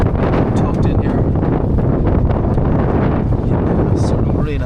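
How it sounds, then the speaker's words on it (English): Strong wind gusts in the low 40s buffet the microphone at an abandoned marina in Ermoupoli, Syros, a loud continuous roar with rustling and flapping over it, and no talk in between. "that wind is gusting through in the low 40s"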